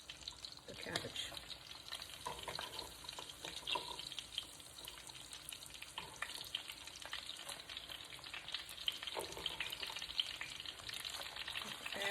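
Cabbage frying with sausage and bacon in a pot gives a faint, steady crackling sizzle with occasional stirring clatter throughout, with a voice faintly present at times.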